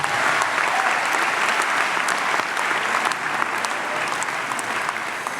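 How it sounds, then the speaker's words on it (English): An audience at Stanford's opening convocation ceremony claps in sustained, dense applause, steady and fairly loud throughout, with no talking over it. "Now give yourself a round of applause."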